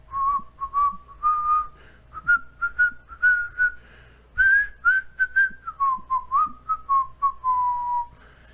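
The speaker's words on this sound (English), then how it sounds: "Let me see if I can do the whistle." A person whistles a melody alone, a string of clear sustained notes with short breaks, pitch drifting up and then gliding back down, close and fairly loud.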